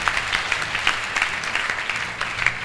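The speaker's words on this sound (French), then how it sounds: "Est-ce qu'on peut acclamer le Saint-Esprit?" Church congregation applauding together in a dense, steady wash of clapping that holds loud and even for a few seconds, no voices above it.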